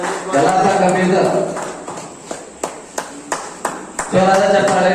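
At a felicitation ceremony for trainees, sparse handclaps ring out in a short irregular burst of about half a dozen sharp claps, framed by a man's amplified announcing before and after.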